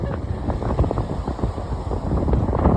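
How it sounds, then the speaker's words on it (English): Strong wind buffets the microphone in a constant low roar, gusting unevenly throughout with no clear voices, in St. Augustine, Florida. "Oh my gosh, it's so windy!"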